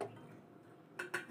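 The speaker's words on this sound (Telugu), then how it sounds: "ఇప్పుడు ఈ మిక్సీ జార్లో పచ్చిమిర్చి వేసుకోవాలి." Green chillies drop into a mixer grinder jar as two quick, close clinks near the end, after a faint, quiet stretch.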